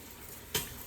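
Sausage sizzles in a pot while being stirred for jambalaya, a quiet frying hiss broken by one brief sharp scrape of stirring near the end.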